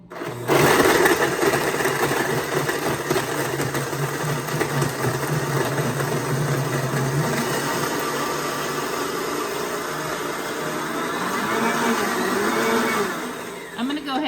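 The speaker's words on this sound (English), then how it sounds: "I'm going to go ahead and mix it before I add any blue in. So let's get started. It's going to be noisy." A blender's steady, loud whirring motor mixes a protein shake continuously for about fourteen seconds, with a slight rise in pitch near the end before it cuts off.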